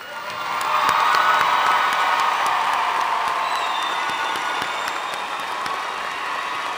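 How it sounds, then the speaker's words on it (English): Audience applause with cheering at a May commencement ceremony, a loud sustained crowd of clapping hands and scattered whoops that swells early and holds steady throughout. "Please join me in applause."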